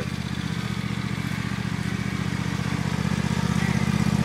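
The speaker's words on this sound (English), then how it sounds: "driving a lawnmower." A child drives a riding lawn mower, its small engine running steadily and loud, with a low, even rumble and rhythmic clatter throughout and no voices.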